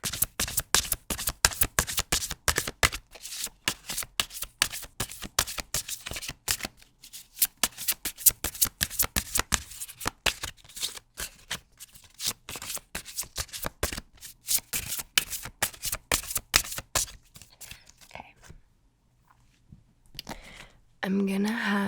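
A long run of close, rapid card shuffling, with dense riffles and flicks repeating steadily before tapering off near the end.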